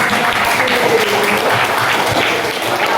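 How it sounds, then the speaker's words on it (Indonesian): Steady applause from an academic supervision coaching session audience fills the room for three seconds, loud and continuous with dense overlapping claps and no clear voices. "Oke, tepuk tangan."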